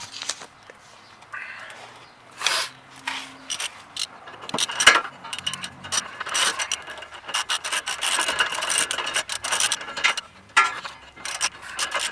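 Tools working the lower ball joint bolts on a Honda S2000 suspension, with rasping, grinding and clicking mechanical sounds in irregular bursts, close and fairly loud, and almost no talk.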